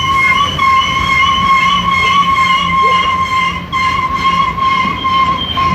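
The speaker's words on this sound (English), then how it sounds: "stand by the train blasting" A train passes on railroad tracks with its horn sounding steadily and loudly close by, a sustained multi-tone blast over rumbling rail noise, with no voices.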